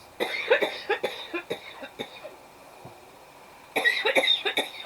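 Repeated coughing bursts, close and fairly loud, come in two clusters separated by a quiet gap, with several sharp hacks in quick succession.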